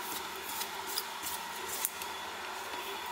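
A craft blade cuts iron-on vinyl close by, producing faint, short scraping strokes with a few small clicks, quiet and irregular, and no voices.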